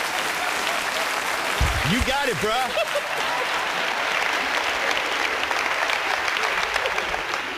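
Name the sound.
audience applause at a magic show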